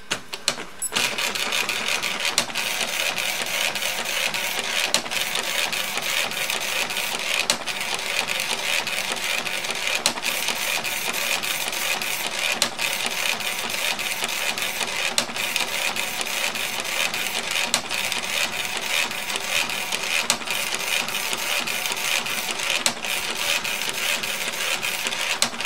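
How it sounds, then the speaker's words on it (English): Canon PJ-1080A color inkjet printer runs its built-in self-test, a steady mechanical whirring with regular clicks and carriage thumps recurring every few seconds, close and continuous with no talk. "So now I'm going to do the built-in self-test, which you start by holding line feed and turning on the power."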